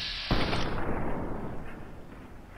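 Grenade rifle blast in the video game Fallout New Vegas: one sudden loud explosion bursts out after a brief quiet moment, then a long rumbling decay fades over the next couple of seconds, with no talking.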